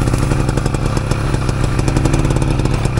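Steady, close engine note from an IZh Planeta 4 motorcycle pulling in first gear, with dense, even firing pulses and no pauses across the whole stretch.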